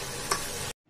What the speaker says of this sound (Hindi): प्याज हमारे फिर से लाइट ब्राउन थे, हमने इसमें बस टमाटर डाल दिए